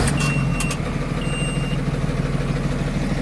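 A 2000 Blue Bird school bus with a glow-plug engine runs at high idle, a steady, close rumble with a few faint high beeps and hisses over it.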